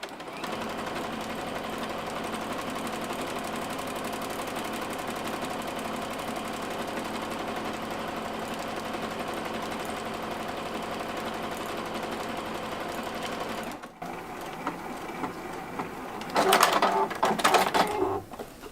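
A sewing machine runs steadily at slow speed while stitching a pattern, its even mechanical hum lasting about fourteen seconds before stopping, followed by a few brief clicks and rustles.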